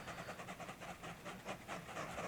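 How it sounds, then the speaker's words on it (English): Trains pulling into a freight station in the video game Transport Fever 2, heard as a steady rolling rumble with hissing and faint rhythmic clicking, moderately quiet and continuous throughout. "Trains coming in."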